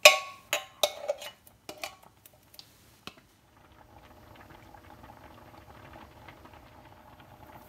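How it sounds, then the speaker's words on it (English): A few sharp clicks and taps of a spoon against a pan, then a coconut milk sauce with mushrooms and onion simmers quietly, giving a soft, steady bubbling and sizzle. "I'll let it simmer for a couple of minutes while I sort of mix it up"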